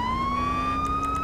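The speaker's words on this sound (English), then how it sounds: "I forgot about the stupid siren on this." A police siren wails on a Georgia State Patrol Chevrolet Tahoe in GTA V's LSPDFR mod, a loud, close, steady rising tone with a few short chirps near the end.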